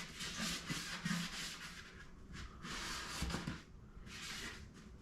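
Repeated rubbing and wiping strokes against a hard wooden surface as glue splatter is wiped off a wooden beehive super, a steady scrubbing rhythm in bursts, fairly close with some background noise.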